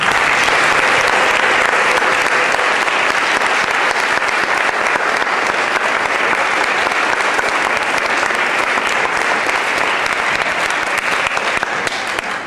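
A crowd gives a long, steady round of applause after a speech, dense and sustained for over twelve seconds without letting up.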